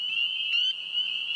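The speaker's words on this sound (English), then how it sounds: "hundreds of frogs may join in a chorus that gets so loud it can be heard hundreds of feet away" A dense chorus of spring peeper frogs, a continuous high shrill peeping drone, loud and unbroken, with a brief brighter call rising above it.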